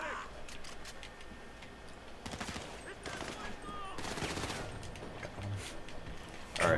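Rapid bursts of automatic gunfire in GTA Online crackle in clustered volleys around the middle, moderately loud over steady game ambience, with a louder hit right at the end.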